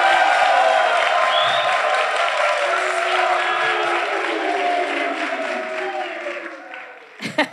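An audience at an outdoor summer concert applauds and cheers the orchestra in a dense, sustained wash of clapping and crowd noise that slowly fades, ending with a few nearby knocks.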